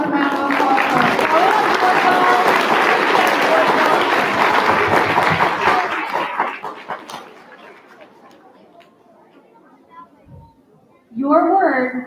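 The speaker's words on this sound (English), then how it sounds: "Let's have a round of applause" Audience applause at a school spelling bee, loud sustained clapping and crowd noise for about six seconds that fades out, followed by a quiet gap and then a voice speaking.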